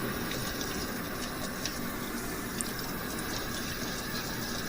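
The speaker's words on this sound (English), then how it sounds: "It's best to have an empty sink so you can kind of see the milky way the starch looks as you're washing it off." Tap water runs steadily into an empty sink as rice is rinsed, a continuous hissing splash with faint clinks, loud and close, with no talking.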